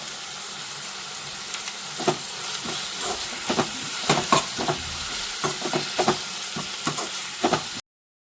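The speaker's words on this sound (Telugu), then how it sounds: "ఉల్లిపాయ పేస్ట్ పచ్చి వాసన పోయేంత వరకు కొంచెం బాగా వేయించుకోండి" Onion paste fries in a pan for a cauliflower masala curry, a steady sizzle broken by repeated scraping stirs roughly every half second, close and alone with no talk.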